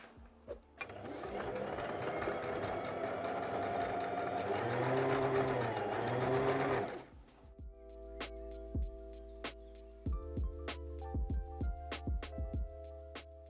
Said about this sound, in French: Donc on va coudre tout ça à 1 cm du bord, au point droit, à la machine à coudre.